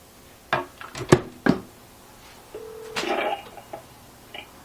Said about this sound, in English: I'm going to dial an extension of my house system that is 123-456-7890.